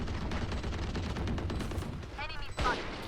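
Gunfire in the tactical shooter VALORANT, a rapid flurry of shots followed by a few quieter bursts and game effects at moderate level, with no speech.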